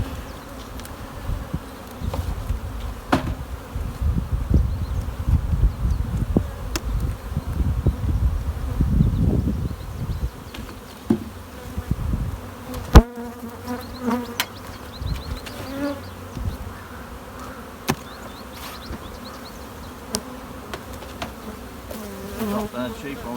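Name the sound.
honey bees buzzing around open hive colonies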